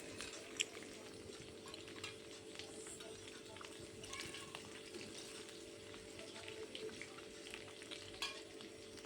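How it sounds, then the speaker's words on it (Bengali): Potatoes fry in hot oil with a constant low crackle and sizzle, broken by occasional stirring clicks and light spatters, all fairly quiet and without speech. "দেখো আমি আলুগুলো ভালোভাবে তেলের মধ্যে ভেজে নিচ্ছি।"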